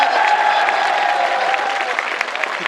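An audience at a heroic-style Hindi poetry recital applauds in a dense, continuous wash of clapping that stays loud and even throughout, with faint crowd murmur mixed in.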